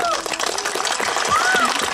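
An audience applauding after a theatre summary event, a dense, steady patter of clapping with a voice speaking over it and a few faint whistle-like tones.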